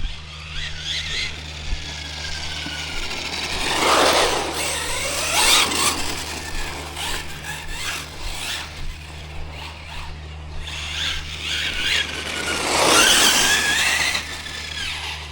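A Hobao TT2.0 Pro RC car driving: a whining electric motor surging and dropping in pitch as it speeds up and slows, with rustling and scraping over rough ground throughout.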